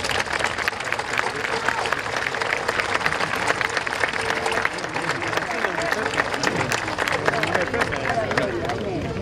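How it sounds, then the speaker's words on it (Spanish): Outdoor crowd applause at the inauguration of a remodelled avenue, dense and continuous across the whole stretch, with crowd murmur and voices mixed in beneath the clapping. "del escultor tacuarembóense José Bulmini, al cual pido un fuerte aplauso en su recuerdo."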